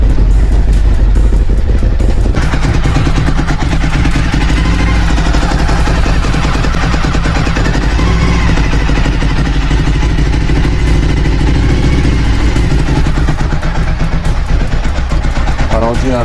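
A Suzuki SV1000S motorcycle engine, freshly rebuilt with its idle set a little low and not yet tuned, idles steadily and loudly up close, a low continuous rumble with rapid mechanical clatter.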